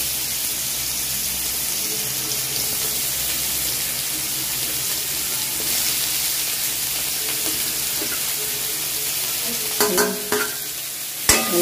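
Onions fry in hot oil with a dense, steady sizzle close by, and a few sharper stirring clatters toward the end.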